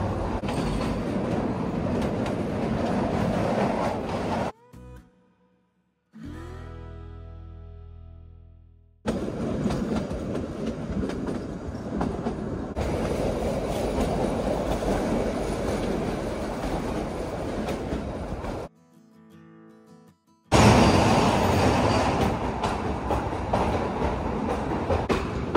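Train running through tunnels on the Shimla hill railway, a loud continuous clatter of wheels and rumbling carriages that drops abruptly to near silence twice as it passes through tunnel sections, then returns at full strength.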